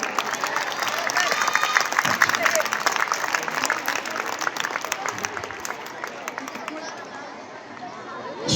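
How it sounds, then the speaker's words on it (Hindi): Clapping rings out for students at a school function, mixed with crowd chatter and babble, moderately loud and continuous before gradually thinning toward the end. "उनके लिए भी जोरदार तालियां"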